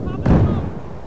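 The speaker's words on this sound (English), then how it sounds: "Don't keep chucking grenades" A single heavy, booming grenade blast in a Battlefield 4 match, close and loud with a rumbling tail that fades over the following second.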